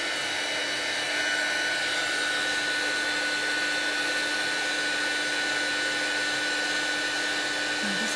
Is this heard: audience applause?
no